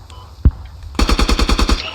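Automatic machine gun fire in the military shooter game Squad: a sharp single shot, then a rapid burst of about nine evenly spaced rounds at close range, with faint background noise.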